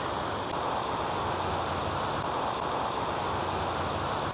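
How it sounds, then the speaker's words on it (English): Water cascading down an old canal lock at Tewitfield where the lock gates were removed, a steady, dense rushing roar that holds at the same level throughout with no talk. "The water just cascades down now."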